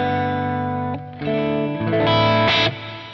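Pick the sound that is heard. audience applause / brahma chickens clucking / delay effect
delay effect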